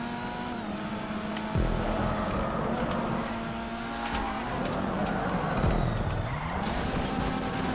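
Racing-game car sliding across snow with barely any traction, steady engine drone with tonal bands that dip and swoop as it drifts, continuous and moderately loud throughout.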